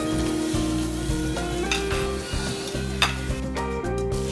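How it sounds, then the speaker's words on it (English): Onions sizzle and fry on a tabletop grill for Korean samgyeopsal, a steady close crackle with light stirring and scraping of utensils throughout. "Get some onions going here."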